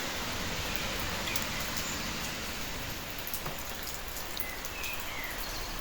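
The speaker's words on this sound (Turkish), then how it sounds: "Neden yağıyor bilmiyorum ama sürekli yağmur yağıyor." Steady rain falls near a wooded area in Germany, a constant close hiss of drops on surfaces. No voices break the even wash of sound.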